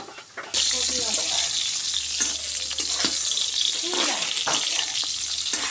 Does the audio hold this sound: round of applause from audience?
no